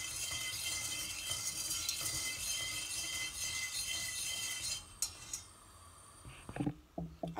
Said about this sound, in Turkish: Şimdi sürekli karıştırarak 1 su bardağı süt, 1 su bardağı da şekeri karıştırarak şekerin eriyene kadar sütü kaynatmadan ısıtacağım.